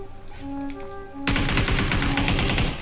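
Rapid, bright automatic fire from a Vector SMG in PUBG erupts after a second of quieter game ambience with steady tones, then continues as a dense, fast burst at close range to the end.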